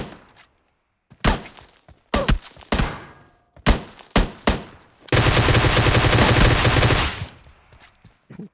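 Gunfire in a shooting video game during a solo-versus-squad match: several sharp single shots, then a loud continuous burst of automatic fire lasting about two seconds before it cuts off. No one speaks.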